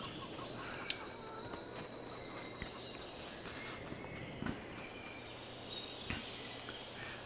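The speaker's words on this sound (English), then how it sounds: "If we jump over to the chickens" Chickens on a farm heard faintly at a distance, with occasional soft clucks and small rustles over a steady low background hum.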